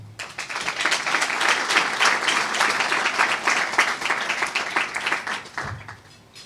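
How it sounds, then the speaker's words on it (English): An audience at a CFA charter award ceremony applauds with dense, continuous clapping that swells, holds steady for several seconds, then fades out. "please give them a round of applause."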